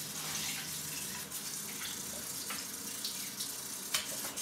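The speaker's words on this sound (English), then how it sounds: "I'm going to just quickly get some fresh water into here" Fresh tap water runs steadily into a basin, a close, continuous hiss and splash with occasional small knocks.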